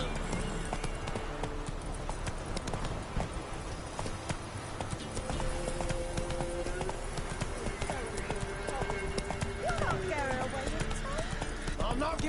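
Roach, a horse in the video game The Witcher 3, clip-clops along at a steady rhythm, hoofbeats close and continuous beneath game music and a voice talking over them.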